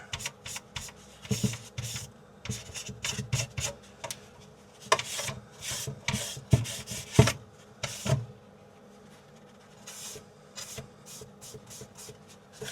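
Weathering grime is wiped across a scale RC car body in short, irregular rubbing strokes, soft and close, with pauses between passes and no voices.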